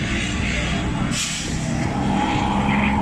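Tokuda 140 engine running steadily, a dense loud continuous mechanical roar with rattling texture, heard up close with a person speaking over it.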